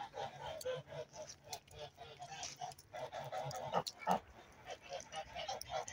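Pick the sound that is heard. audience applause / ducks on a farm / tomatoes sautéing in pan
ducks on a farm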